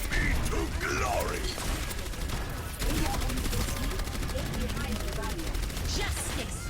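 Rapid gunfire and mechanical reloading clicks from the Overwatch video game, dense and continuous at close range, with a voice heard faintly beneath the shooting.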